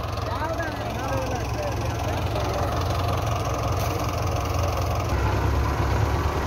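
A Belarus tractor engine idles in a steady, continuous low rumble that holds even throughout, with a voice speaking over it.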